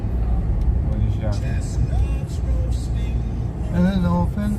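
Road traffic around Honolulu, Hawaii, heard from inside a moving vehicle: a steady low engine and road rumble under frequent conversation.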